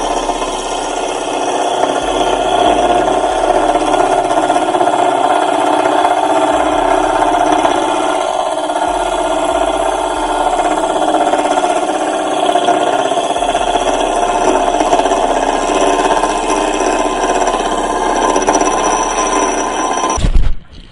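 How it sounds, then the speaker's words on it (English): A wood-turning gouge cuts into wood spinning on a lathe, a steady close hiss and hum of the motor with the cutting tone holding evenly throughout before stopping at the end. "Present the gouge to the material."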